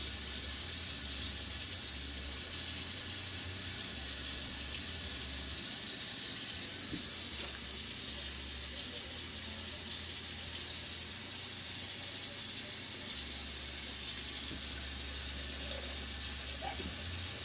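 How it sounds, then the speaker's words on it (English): Tap water runs steadily into a sink during handwashing, a constant close hiss of flowing water throughout with a low hum underneath and no talking. "I am going to wash my hands."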